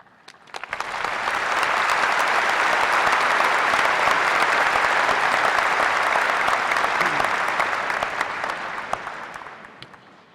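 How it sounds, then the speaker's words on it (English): Sustained applause from a large audience at a university graduation ceremony, swelling quickly after a quiet start, holding steady and loud for several seconds, then tapering off near the end. "let's give our graduates one more round of applause"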